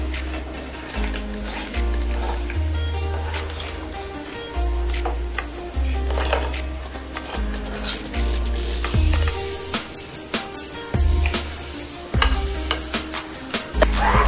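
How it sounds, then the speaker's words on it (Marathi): Bombay duck (bombil) fish frying in hot oil, a steady loud sizzle and bubbling with repeated clatter and scraping of a utensil in the pan throughout. "बोंबील छान तळून झालेले आहेत"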